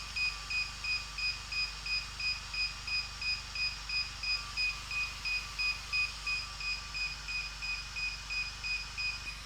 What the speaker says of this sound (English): Now the same thing, this thing starts beeping.